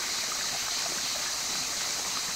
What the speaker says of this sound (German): Und das ist der Überlauf vom Badebecken.